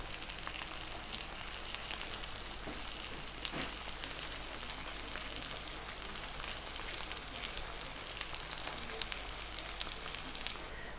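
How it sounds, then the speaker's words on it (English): Cheese caramelizing while buns toast in butter in a hot pan, producing a dense, even sizzle that crackles steadily throughout with no talking. "while our cheese is caramelizing"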